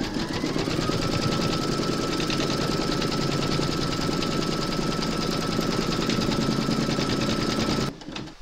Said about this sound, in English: pop your hoop into your machine and stitch round number 2